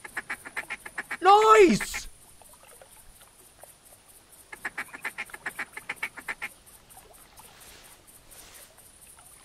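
A goose caller draws a flock in theHunter Classic hunting game, with bursts of repeated honking from the geese, one loud burst early and another run of rhythmic honks midway, and a short exclamation heard between them.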